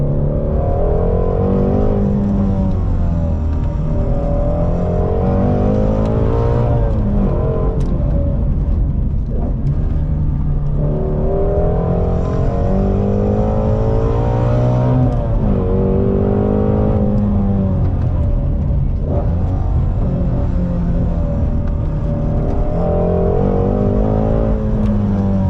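A Ford Shelby GT350R sports car engine revving and pulling hard, rising and falling through gear changes, loud, throaty and continuous, heard from inside the car.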